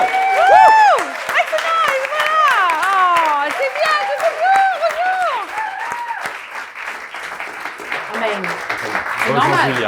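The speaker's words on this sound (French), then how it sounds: "Tous vos applaudissements, please, pour vous ce soir, la seule, l'unique, l'extraordinaire, Julia Zemiro" A crowd gives loud applause to welcome Julia Zemiro onto the stage for a live conversation event, with rising whoops and cheering voices over the thick clapping before it gradually thins out.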